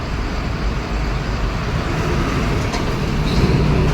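Road traffic with cars and other vehicles passing on a busy street in India, a continuous low rumble of engines and tyres that stays steady and fairly loud throughout.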